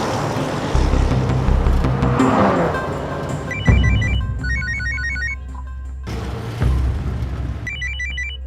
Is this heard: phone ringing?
yes